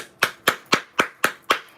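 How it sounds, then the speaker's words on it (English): Six sharp, evenly spaced hand claps ring out close by in quick succession, a brief clapping burst with no talk. "round of applause for her"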